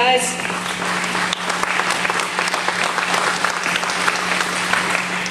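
Sustained applause from a crowd, dense clapping that carries on steadily throughout at an even loudness, with a low steady hum underneath.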